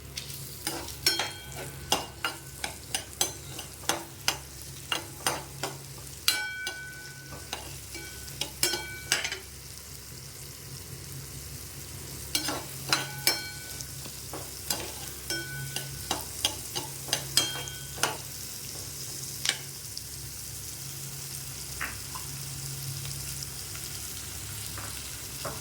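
Small onions and dried red chillies sautéing in a pan, with a low steady sizzle under repeated bursts of spatula scraping and clinking against the pan, paused for a stretch in the middle before the stirring resumes.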